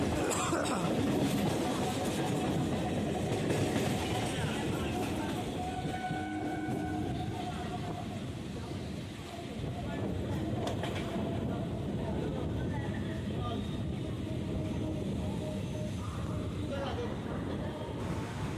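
A Howrah-Tarakeswar local train runs along the Howrah-Bardhaman main line near Liluah station with a constant loud rumble and rattle from inside the carriage. Muffled voices and a distant horn can be heard in the background.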